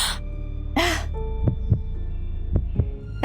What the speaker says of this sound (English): Her heartbeat quickens in her chest.